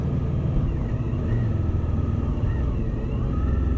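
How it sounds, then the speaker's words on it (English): A 2020 Suzuki V-Strom 1050XT's big V-twin lugs low in fifth gear at about 40 mph and 2000 rpm, a steady deep rumble with wind noise and no speech. "So 40 mile an hour in fifth is I think a step too far for the engine."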